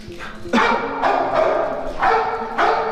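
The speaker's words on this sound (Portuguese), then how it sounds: "Tá vendo aí o tanto que o cachorro late?" A dog barks repeatedly at close range, five loud, ragged barks spaced roughly half a second apart, with no other sound competing.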